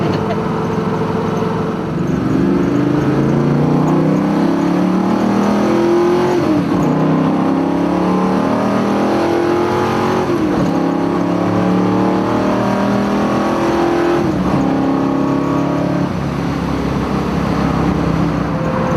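A 1972 Chevrolet Nova fitted with a TREMEC Magnum 6-speed manual gearbox pulls hard on the road, its engine note climbing through the revs and dropping at each of several gear shifts, loud and continuous throughout.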